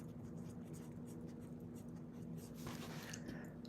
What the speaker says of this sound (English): So I'm gonna write this down. I'm gonna write at the top identity.